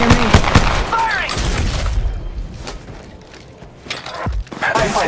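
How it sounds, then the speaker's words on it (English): Gunfire in Apex Legends Mobile crackles in loud, rapid bursts and sharp single shots amid mechanical clatter, with game voices calling out over the shooting. "Shots fired at me"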